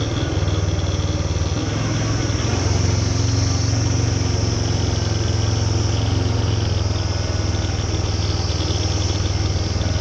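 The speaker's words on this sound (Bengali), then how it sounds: "ইঞ্জিনের হাউলিং শুনে বুঝতেই পারছো, ফার্স্ট গিয়ার ইঞ্জিন ব্রেকিংয়ে নামতে হচ্ছে" A Royal Enfield 411 motorcycle engine braking in first gear on a steep mountain descent, a loud, steady, continuous droning howl that holds for the whole stretch with no break.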